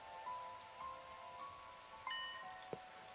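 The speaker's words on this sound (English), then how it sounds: "Raindrops were pelting the rooftop around me, producing a relentless, rhythmic beat." Rain drums on a rooftop in the video game Hundred Line Academy, a steady soft hiss of drops with a few brighter taps and tonal game sounds layered over it.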